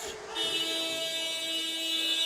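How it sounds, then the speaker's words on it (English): An arena buzzer sounds the end of the first half at a basketball game between Japan and Great Britain, a loud steady electronic tone holding for about two seconds over crowd noise. "And Akaishi will try to beat the buzzer"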